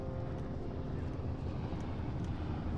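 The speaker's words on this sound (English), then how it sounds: "There's the helicopter." A helicopter in the video game Firewatch drones steadily at a distance, a continuous rumbling engine and rotor wash heard alone for a few seconds.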